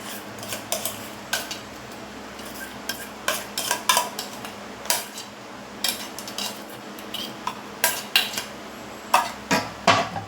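A spoon scrapes and clinks around a bowl while oil-moistened methi muthiya dough is mixed, giving repeated irregular knocks and scrapes, close and fairly loud, with no voices.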